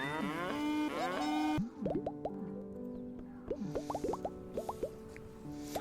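Cows in the video game Dawnfolk give a string of short, bubbly, rising moo-like calls. The calls come in quick clusters after a longer opening tone and stay fairly faint.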